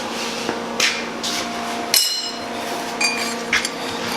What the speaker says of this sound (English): we'll take a hammer and we'll force it up against the center plate